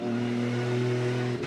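A Toyota JZX90 drift car engine drones at steady high revs during a sight lap at a Formula Drift event, loud and sustained with a strong harmonic whine, then briefly drops off at the end.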